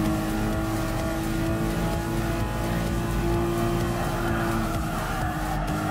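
A Lamborghini Countach engine drones loudly and steadily as the car takes an inside pass, a constant dense roar with a sustained tone and no voices.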